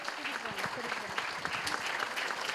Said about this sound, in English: big, big round of applause to all the young kids on the stage